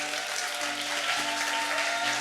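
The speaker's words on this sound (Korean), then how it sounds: "박수로 모시겠습니다" Audience applause welcoming a history lecturer onto the stage at a talk on the 1973 Cheonmachong tomb excavation, a steady dense clapping from a crowd that fills the short clip at moderate level.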